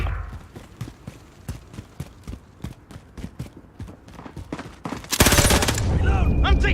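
Rhythmic clip-clop footsteps in a video game lead into a sudden loud burst of sustained gunfire near the end.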